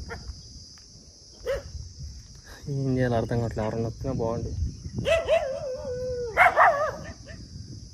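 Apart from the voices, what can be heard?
dogs barking on a roadside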